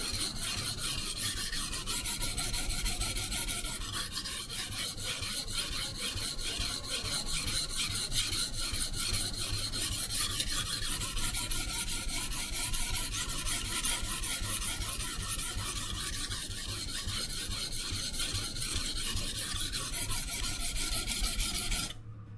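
An IKEA FJÄLLRÖDING santoku kitchen knife scraped steadily along a Sharpal 169H 220/600 whetstone wetted with Windex, a continuous gritty rasp of repeated strokes, close and loud with no talking.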